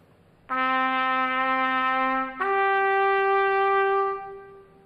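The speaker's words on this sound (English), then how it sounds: "if you take middle C and play the G right above that" Middle C and the G above it sounding together a fifth apart, loud and steady, with the lower note shifting partway through before both fade out.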